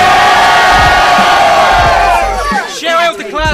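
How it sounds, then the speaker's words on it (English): A large crowd at a rap battle roars and cheers loudly, with shouts rising over the noise and a few bursts of yelling toward the end. "We have Nugget, make some noise"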